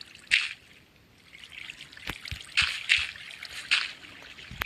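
Water flows in a Minecraft hardcore world on an automatic potato farm, a soft, faint trickle with a few brief splashy bursts rising and fading.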